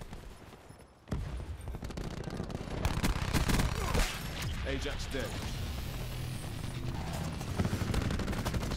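Gunfire in Call of Duty Black Ops 4 multiplayer, with dense rapid shots and bursts over continuous battle noise, loud and close, and brief in-game voice callouts heard throughout.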